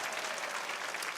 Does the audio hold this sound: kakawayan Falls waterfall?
no